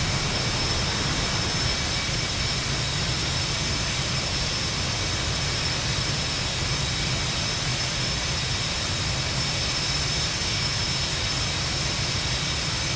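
An F/A-18 jet in the DCS flight simulator roars continuously on afterburner, a dense, steady, loud engine rush with a high whine on top and no breaks.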